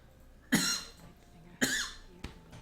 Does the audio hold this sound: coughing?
yes